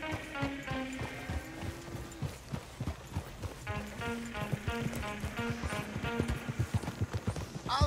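Horse hooves clip-clop at a steady riding gait in Red Dead Redemption 2, rhythmic and close, with tack jingling and a low rumble beneath, speeding slightly toward the end.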